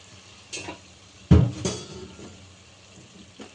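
Goat tripe (boti) being stirred in a pan on the stove, with a few distinct scraping and clattering spatula strokes over a low background sizzle; no talking.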